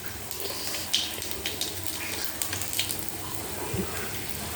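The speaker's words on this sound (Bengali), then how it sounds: "এবার কড়ার মধ্যে কাঁচা লঙ্কা দিয়ে দিয়েছি, কাঁচা লঙ্কা, কালো জিরে ফোড়ন দিলাম" Green chilies and nigella seeds sizzle in hot oil in a kadai while cooking a Bengali bata fish curry, a steady crackling hiss with a few sharper pops, close and alone without talk.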